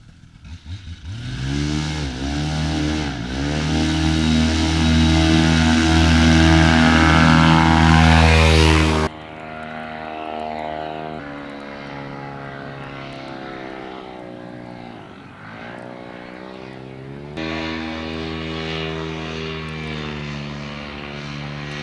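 A light aircraft's engine drones loud and close on a runway before takeoff, a rich buzzing hum that swells, drops abruptly in pitch and level, dips, then rises again.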